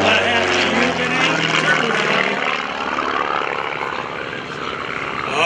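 A Van's RV propeller plane flying aerobatics at the 2011 Greenwood Lake Airshow makes a loud, buzzing engine roar that sweeps in pitch and gradually eases as it passes.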